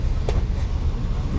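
An Amtrak passenger train in Florida rolls along with a steady low rumble from inside the car and one brief click near the start; no one speaks.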